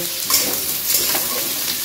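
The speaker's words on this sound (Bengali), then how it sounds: "মাটনটাকে কষিয়ে নেব।" Mutton and onions stir-frying in hot oil, a steady broadband sizzle with a few soft scrapes of the spatula, close and fairly loud, no talking.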